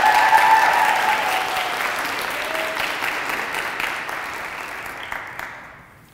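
Sustained audience applause and cheering at a senior speech introduction, a dense wash of clapping that stays loud for several seconds and then fades out near the end.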